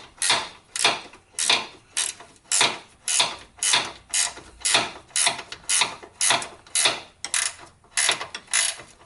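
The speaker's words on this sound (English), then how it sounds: "I like a ratcheting wrench because it's the only thing you really can get in this space" A ratcheting wrench works the front sway bar bolts on a Subaru BRZ, giving a steady run of about fifteen quick, close clicking bursts at an even rhythm, with no talking.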